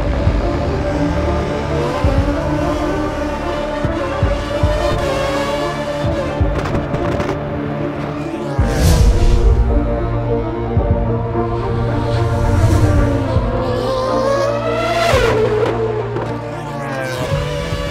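A Williams Formula 1 car in the F1 2013 video game screams through a hot lap of Suzuka, its engine note rising and falling through gearshifts and braking, loud and continuous, with tire squeal in places.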